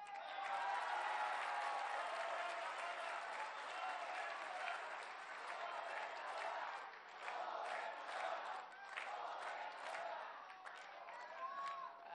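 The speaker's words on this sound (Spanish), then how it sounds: "Le damos un aplauso también a Mara Lezama." A crowd at the Parque del Jaguar inauguration gives Mara Lezama a long round of applause, thick continuous clapping swelling and dipping in waves, with scattered shouts and voices mixed in.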